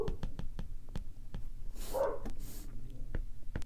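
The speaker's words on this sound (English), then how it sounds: "Apologize if you can hear my dogs." Several dogs bark in sharp, irregular bursts from downstairs in a house, muffled and moderately distant, with a brief whimper partway through and no talk over them.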